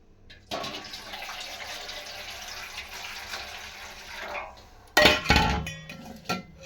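Water splashes and pours steadily for several seconds as water is drained off while making coconut idli, followed by a brief louder gush and a few clinks near the end.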